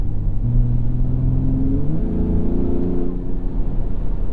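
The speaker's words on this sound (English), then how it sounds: "Ooh, a little bit of a turbo noise there." A 2021 Ford F-150 Raptor's engine and turbo rumble steadily at close range, with a rising whirring tone climbing through the drone and no one talking.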